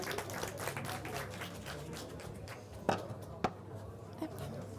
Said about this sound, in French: On va l'applaudir en attendant que ça cuise.